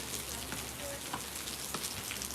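Steady rain falls around a person walking outdoors in Harlan, Kentucky with a dog, a constant close patter over the whole stretch with a few brief sharper drips.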